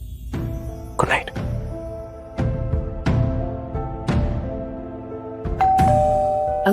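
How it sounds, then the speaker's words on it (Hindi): A house doorbell rings in a repeated ding-dong pattern, several bright chimes with ringing decay spaced about a second apart, sounding close and clear. "अगली सुबह घर की डोरबेल बजी"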